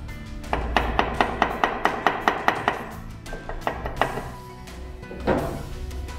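A damaged engine oil seal on a Yamaha FZ 250 motorcycle is tapped out with a wood or fibre drift: a run of quick, evenly spaced, close knocks, then slower, more scattered taps.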